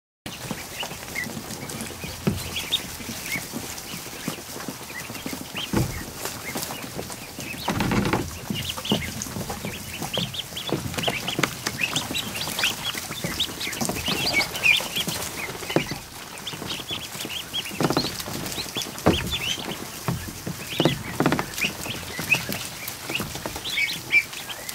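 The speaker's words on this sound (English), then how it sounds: "100 plus ducklings in a kiddie pool." More than a hundred ducklings crowd a kiddie pool, filling the air with a dense, continuous chorus of overlapping peeps and chirps, steady and close throughout, with no talking.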